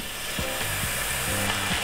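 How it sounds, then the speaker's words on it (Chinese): Pork slices grilling on a home tabletop barbecue, giving a steady loud sizzle and crackle throughout with a few brief tonal scrapes, no voices. "那现在先烤猪肉片"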